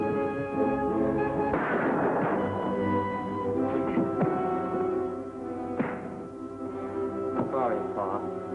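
Shotgun blasts ring out in a classic TV western, several sharp booming shots scattered among music and excited voices.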